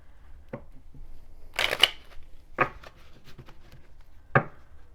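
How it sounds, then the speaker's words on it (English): Romance angel oracle cards are shuffled by hand up close, in several separate crisp bursts of card flutter and slaps with short quiet gaps between them. "let me shuffle this a little bit."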